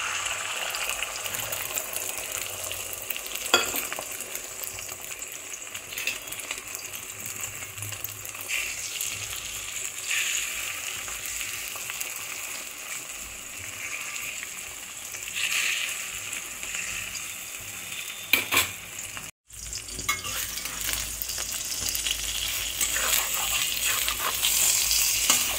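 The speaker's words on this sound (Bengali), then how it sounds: "তেল গরম হয়ে গেছে, ডিমের গোলাটার মধ্যে দিয়ে দিচ্ছি।" Beaten egg fries in hot oil for an omelette, a continuous close sizzle and bubbling with occasional stirring scrapes, cut by a brief silent gap near the end.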